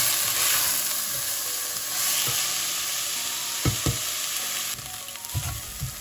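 Black lentils and rice fry in a pan for khichadi with a steady, loud sizzle, broken by a few soft knocks of stirring, and no voices.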